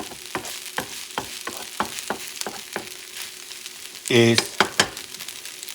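Food frying in a pan for a rice dish with scallops and chickpeas, a steady soft sizzle broken by repeated sharp scraping stirs and one louder clattering burst near the end, with a brief word spoken.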